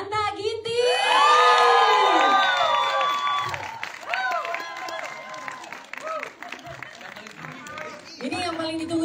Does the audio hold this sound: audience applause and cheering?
yes